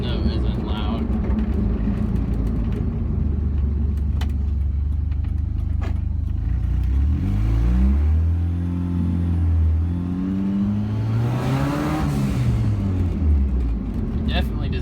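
A loud car with a newly installed muffler rumbles and revs steadily, its deep exhaust tone rising and falling in pitch through two swells, with a person talking over it.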